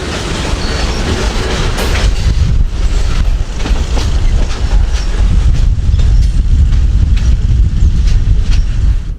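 Florida Midland Railroad freight train led by two locomotives rumbling past nearby, a steady loud roar of engines with clickety-clack wheels and occasional squeals, wind buffeting the microphone throughout.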